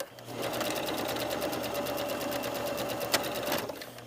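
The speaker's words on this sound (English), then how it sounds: "We're just going to sew like maybe, I don't know, an inch or two." Sewing machine stitching a short seam on a lined patch pocket, a steady close, loud run of rapid stitching lasting about three and a half seconds before stopping, with one sharp click near the end.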